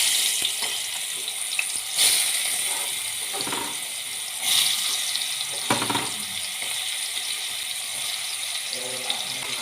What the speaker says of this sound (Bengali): এবার এই তেলের মধ্যে আমি এক এক করে এই মাশরুমগুলো ছেড়ে দেবো